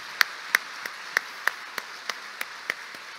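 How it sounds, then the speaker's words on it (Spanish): Applause at a professional association's admission ceremony comes as thin, evenly spaced single claps, about nine sharp claps from only one or two pairs of hands in a quiet room, with no voices. "quiero darles un merecido reconocimiento con un voto de aplauso, por favor, a todos los presentes que están acá"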